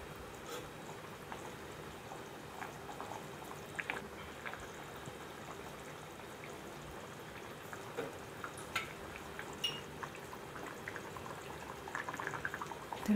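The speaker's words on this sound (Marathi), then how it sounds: "तर पाहू शकताय रश्श्याला छान उकळी आलेली आहे." Prawn curry gravy boiling at a steady simmer in a pot, giving an even, close bubbling hiss with small pops throughout.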